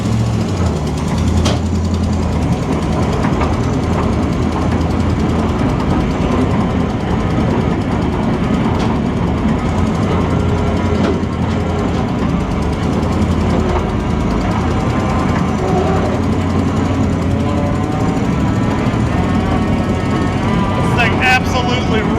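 A custom Vietnam War M114 tracked carrier drives around a lot, its engine a loud, low continuous rumble with mechanical rattling and clanking layered over it, heard up close from onboard.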